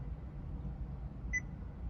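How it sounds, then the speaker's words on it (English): A Honda Elevate car infotainment system gives a single short electronic beep once over a low, steady hum. "Then you have the beep of this unit,"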